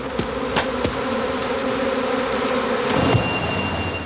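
Bees buzzing steadily around a straw skep hive, a close, continuous drone with a few individual insects passing nearer.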